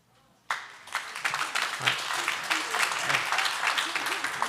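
Audience applause at a city council candidate forum, a sustained burst of many hands clapping that starts abruptly and holds steady and fairly loud for several seconds, with no talk over it.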